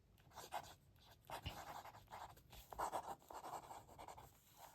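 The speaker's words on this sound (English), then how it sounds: "So I'm going to do a quick writing sample on both now." A fountain pen with a medium nib scratches across paper up close, soft rhythmic strokes and short pauses in a quiet room, faint and steady over a few seconds.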